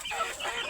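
A native village hen gives a short, close cluck, a single brief call with no talk.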